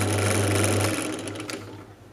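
A drill hums steadily as it bores a 5mm hole for a red LED in an electronic touch game project, the motor tone fading slightly as the cut finishes.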